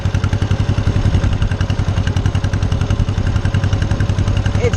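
Close, loud farm tractor engine chugging in a rapid, steady rhythm while being driven, its pulsing mechanical thrum unbroken for the whole stretch, with no speech over it.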